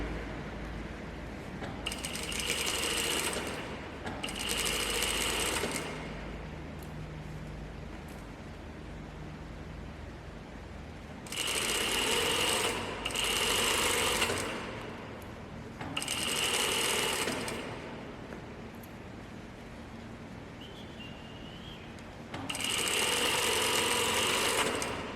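Sewing machine stitching the inside leg seam of elastic-waist pants, heard as several loud, close whirring runs of a few seconds each, separated by quieter pauses and small mechanical clicks.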